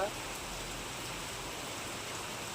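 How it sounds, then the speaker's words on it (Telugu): Dense, steady rain pours down as a continuous broadband hiss, loud and unbroken throughout with no distinct pauses. "ఇది ఎంత చాలా ప్రెషర్‌లో వర్షం పడుతుందనమాట."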